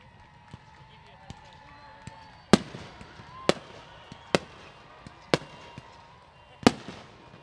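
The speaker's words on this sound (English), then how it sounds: "The fireworks are going to start." Fireworks bursting at a high school graduation ceremony, Palm Desert High School 2021: six sharp booming reports spaced about a second apart, fairly close and loud, over a low murmur of crowd noise.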